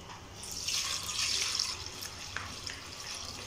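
Water is poured from above over fresh fish being seasoned for grilling on a rooftop, a soft splashing trickle that swells and then tapers over a few seconds, close by and fairly quiet.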